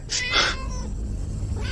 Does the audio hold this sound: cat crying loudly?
yes